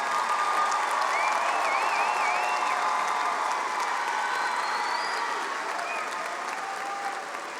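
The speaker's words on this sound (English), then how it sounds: "A round of applause for our summer 2019 graduates." A crowd applauds summer 2019 graduates at an LSU commencement ceremony, a dense, sustained wash of clapping that holds steady and fades slightly toward the end, with faint whistles on top.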